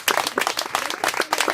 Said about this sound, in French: félicitations de bonne main d'applaudissements